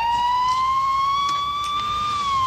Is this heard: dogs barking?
no